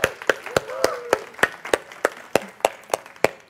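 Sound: audience applause for Michael

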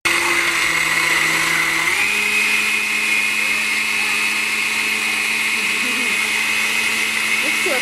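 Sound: blender blending strawberries with sugar

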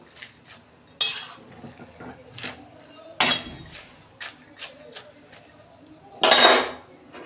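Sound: pan being covered with a lid

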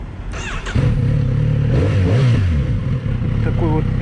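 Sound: 2019 Kawasaki Z900RS motorcycle engine starting and revving

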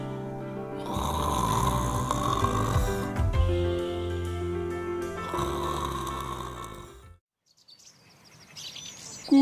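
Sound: man snoring while sleeping

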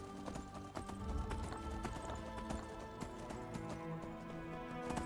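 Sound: donkey hooves clip-clopping while walking, video game Enderal

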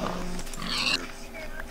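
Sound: pigs oinking in Minecraft video game

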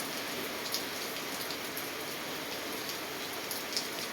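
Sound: rain

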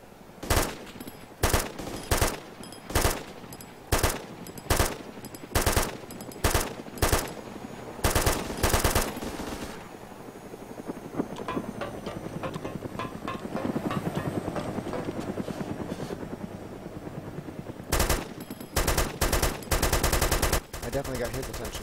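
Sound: helicopter firing machine gun in video game DayZ Epoch

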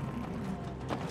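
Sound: flying robot vacuum cleaners whirring in the video game It Takes Two

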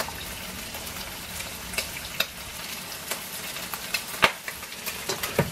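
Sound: water boiling in a pot for pasta

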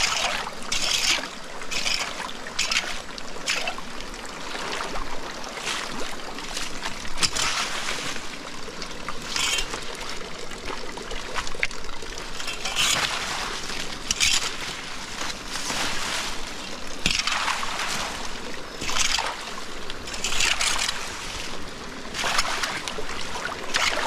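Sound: stream water flowing

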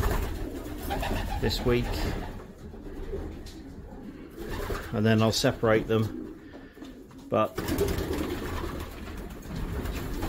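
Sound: racing pigeons cooing in loft

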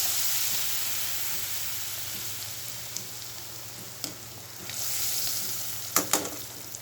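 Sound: gram flour battered pakoras frying in oil

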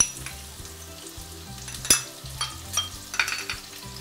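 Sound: ginger garlic paste, green chilies and onion frying in hot oil

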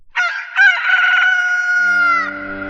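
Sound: rooster crowing

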